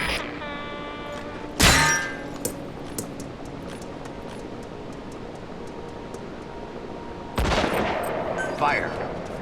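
Gunfire in Metal Gear Solid V: The Phantom Pain, two loud sharp reports several seconds apart with faint clicks between them, over a low ambient hum.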